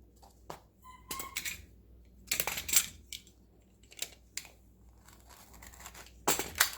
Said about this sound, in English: Now I'm cutting the material, even though, and there's a thread, I'm not cutting the fur.